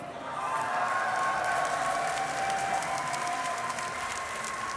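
An esports arena crowd at a Dota 2 grand final between Alliance and Cloud9 roars with sustained cheering and applause that swells quickly and holds loud throughout, with no clear speech.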